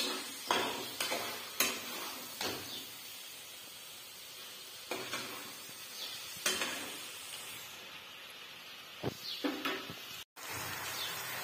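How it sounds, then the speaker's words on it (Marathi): Fried paneer being stirred in a hot pan, with sizzling and intermittent scraping and clatter of a spoon against the pan, close and moderately loud with no talk. "हे पनीर तळून घेतलेलं ऍड करणार आहे. तर हे पहा असं परतू घ्यायचं."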